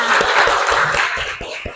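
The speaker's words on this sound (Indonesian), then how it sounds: "Tepuk tangan dulu semuanya." Brief group applause in a classroom-like gathering, a short, uneven burst of claps that thins into a handful of separate hand strikes as it fades, with some voices mixed in.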